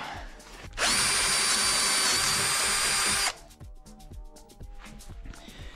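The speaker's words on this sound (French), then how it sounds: "j'ai percé le trou" A power drill whines steadily for about two and a half seconds while boring a hole near the exhaust manifold of a Talbot Samba, loud and close, then cuts off into quiet workshop clatter.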